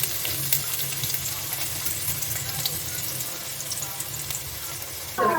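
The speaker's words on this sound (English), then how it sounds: "Fry the onions and the mint leaves for a little while until the onions turns out to be a little translucent." Chopped onions and mint leaves sizzle steadily in hot oil in a pan along with cardamom and cinnamon, a soft continuous frying hiss that runs throughout, with a brief clatter near the end.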